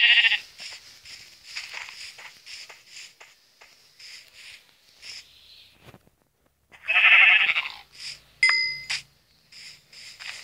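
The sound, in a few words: sheep bleating in a video game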